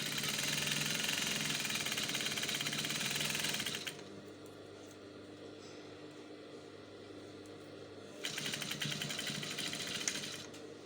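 An electric sewing machine stitches a dress hem in two fast, steady runs of whirring, separated by a quieter pause of several seconds.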